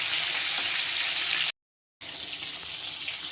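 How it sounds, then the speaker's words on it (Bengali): Ganges tangra fish frying in a pan, handled with care: a steady, close, hissing sizzle that cuts out briefly midway and then resumes at the same level. "ট্যাংরা মাছটা একটু সাবধানে ভাজতে হয়"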